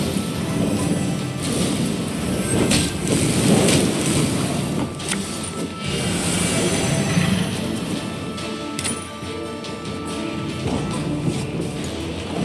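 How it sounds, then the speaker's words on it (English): A thunderstorm in Thronebreaker: The Witcher Tales, steady heavy rain with rolling rumbles of thunder throughout, no voices. "The storm is coming. Let's enjoy the weather while we still can."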